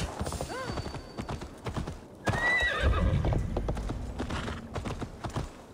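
A horse gallops in Assassin's Creed Valhalla, fast rhythmic hoofbeats pounding close, with a whinny partway through and game sounds layered on top, alongside some speech.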